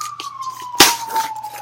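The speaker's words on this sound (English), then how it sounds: "See that? Sirens." A siren wails as a single long, slowly falling tone, close and fairly loud, with a sharp rustling burst partway through, heard in Vermont.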